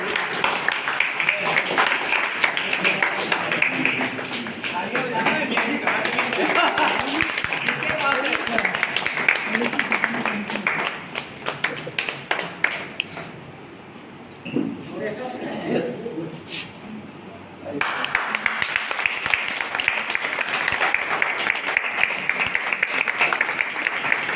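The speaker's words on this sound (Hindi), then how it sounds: "अरे हाथ में जोरदार तालियां के लिए।" An audience at an achievers' event applauds in a sustained, dense wash of clapping. The applause dips briefly partway through and then swells again, with voices talking over it.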